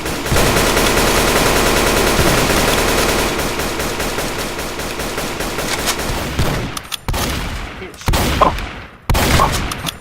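Loud, sustained automatic gunfire in the video game Rust rattles continuously, then breaks into a few short, separated bursts.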